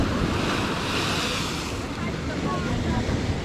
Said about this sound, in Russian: Назад пошла, и с той встречается с волной.